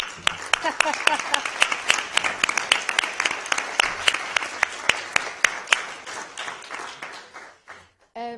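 A crowd at a municipal council meeting applauds for several seconds, with sharp distinct claps standing out over steady clapping that thins out before a voice begins.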